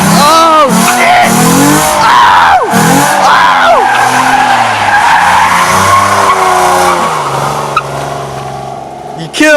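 A 3.7 V6 Mustang drifts with loud, continuous tire squeal and skidding, its wavering screech rising and falling close by, with engine noise and excited voices mixed in.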